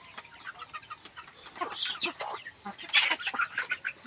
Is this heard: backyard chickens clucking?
yes